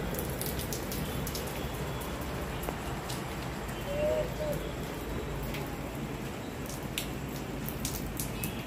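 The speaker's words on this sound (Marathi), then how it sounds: "किती छान पाऊस येऊन राहिला ग" Steady rain falls in an even, continuous hiss of drops, with scattered louder splashes and no break in the patter.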